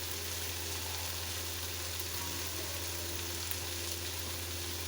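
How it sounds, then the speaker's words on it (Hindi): Potatoes and minced meat fry in a pan with a dense, steady sizzle that stays close and even throughout, with no talking. "अब ये अच्छे से भून गए। अब ये सही भून गए।"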